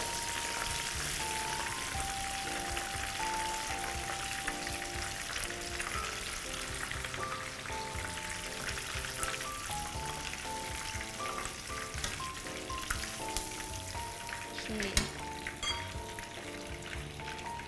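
Chicken pieces deep-frying in hot oil for a spicy fish-sauce dish, a steady dense sizzle and crackle running unbroken throughout, with a few faint utensil clinks near the end.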